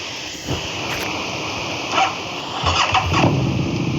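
A video game motorcycle engine cranks and catches, its revving rising in a few bursts before settling into a steady rumble.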